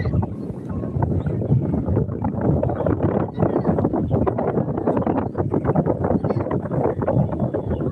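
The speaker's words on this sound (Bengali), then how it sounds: "হাওয়া দিচ্ছে হেপি ভালো লাগছে" Steady, loud rushing noise fills the whole stretch, like strong wind buffeting past at Belur Math, with a continuous broadband roar and no pauses.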